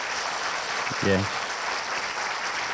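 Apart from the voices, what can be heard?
audience applause for a professor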